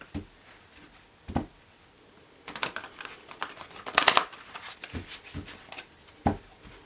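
Tarot cards are shuffled by hand in soft, irregular riffling bursts and crisp flicks, close and quiet, with brief pauses between handfuls.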